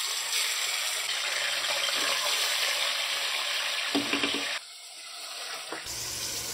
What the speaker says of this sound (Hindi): उसी ऑयल के अंदर हम 1 किलो चिकन लेंगे। चिकन को हम हल्का सा फ्राई कर लेंगे।